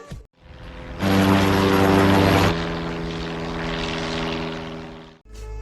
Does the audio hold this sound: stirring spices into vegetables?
no